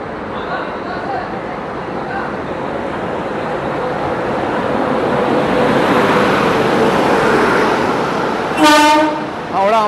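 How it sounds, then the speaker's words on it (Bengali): A Howrah-Ahmedabad train rolls past with a broad rumbling rush that slowly builds, then a loud horn blast sounds near the end. "তো আন্দুলের একটা ট্রেন আসছে, ট্রেনটা তোমাদেরকে দেখিয়ে দিই আগে"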